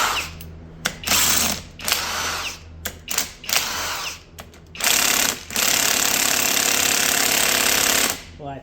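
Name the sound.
loosening bolts on Mazda 20b rotary engine front plate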